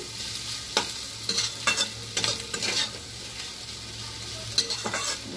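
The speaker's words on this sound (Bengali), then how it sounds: "এই আলু ভাজাটা নামিয়ে রেখে দিয়ে তারপর আবার আমাদের মায়েরটা বসাবো।" Potatoes fry in a pan with a steady close sizzle, punctuated by several scraping stirs of a utensil against the pan; no one speaks.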